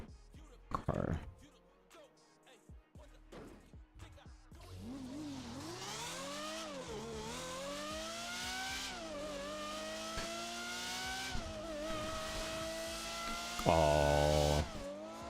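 In GTA 5, a car engine revs and climbs through rising, droning pitch sweeps for several seconds, loud and continuous, ending with a sharper burst.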